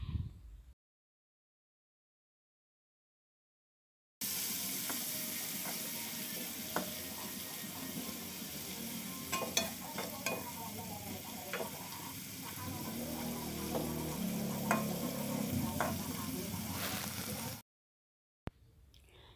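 Steady, loud sizzling and crackling of small anchovies frying in hot oil in a pan, continuous for several seconds with occasional pops and scraping.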